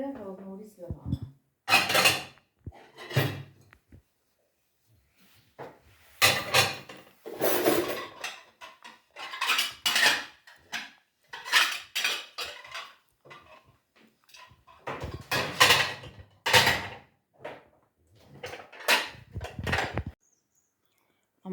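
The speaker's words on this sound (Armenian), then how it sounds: "Ամաններն էլ լվացի," Dishes and pots being washed by hand, with intermittent clatters and clinks of pans and cutlery in separate bursts between quiet gaps, mixed with some talking.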